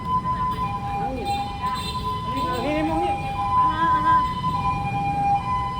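An ambulance siren wails in rising and falling sweeps as it moves along a street in a Thai town, heard over traffic noise while people talk nearby.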